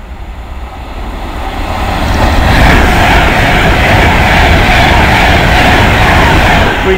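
A Pendolino express train passes close by at Nuneaton, its loud broadband rush and rumble swelling within a couple of seconds and then holding steady.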